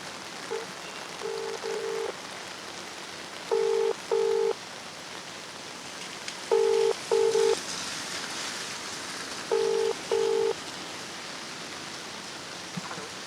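A telephone being dialed: paired keypad tones in short groups of two, repeated about four times, over a steady hiss with no talking.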